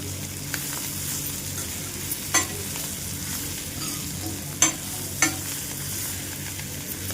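Fenugreek leaves frying in sesame oil give a steady low sizzle, with a few sharp clinks and scrapes of a stirring spoon against the pan, close by and with no one talking.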